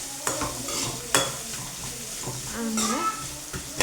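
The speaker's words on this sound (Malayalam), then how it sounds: "അങ്ങനെ സവാളൊക്കെ വഴണ്ടി വന്നിട്ടുണ്ട്" Onions sautéing in a pan, with a steady sizzle and repeated scraping stirs of a spoon against the pan, close and continuous, with brief bursts of voice in between.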